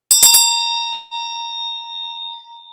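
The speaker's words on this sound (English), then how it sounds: "We sound this bell in remembrance for all" A memorial bell is struck at a Transgender Day of Remembrance ceremony, giving a bright clanging hit followed by a second softer strike about a second later, then a long clear ringing tone that slowly fades in the quiet.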